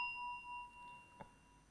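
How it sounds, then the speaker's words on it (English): A meditation bell is struck once, its clear ring sustaining steadily and fading slowly in a quiet room, with a faint soft knock partway through. "I will ring the bell"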